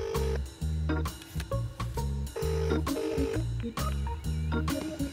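Phone keypad dialing a call, a rapid run of steady two-tone beeps of varying pitch with brief gaps between presses, clear and close with no speech.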